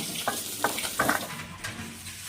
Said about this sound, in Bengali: মাছটা ভাজা হয়ে গেছে, এখন নামিয়ে নেব।